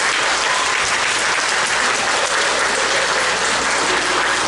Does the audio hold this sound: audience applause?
yes